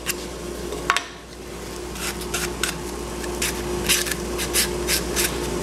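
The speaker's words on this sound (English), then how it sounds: "grab my sandpaper. Just rub it lightly here and get that fuzz off." Sandpaper is rubbed lightly over a wooden finger-joint piece to knock off fuzz, a series of short, rhythmic scratchy strokes close by, with a few sharper knocks among them.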